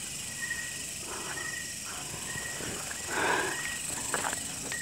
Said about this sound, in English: And you can see the different insects flying.